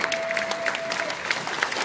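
A church congregation applauding loudly, a dense steady wash of clapping from many hands throughout, with no clear voices over it.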